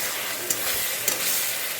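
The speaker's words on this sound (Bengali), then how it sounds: "মাছের ঝোলের জন্য মশলা আলু সব কষানো হচ্ছে" Spices and potatoes frying in a pan for a Bengali fish curry with ginger, cumin, tomato and green chilli, a dense steady sizzle broken by two brief stirring scrapes, close up.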